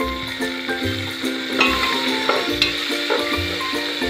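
Tomatoes hit a hot, sizzling tempering for moong dal khichdi: a close, crackling sizzle mixed with repeated stirring scrapes and spoon taps, with no talking.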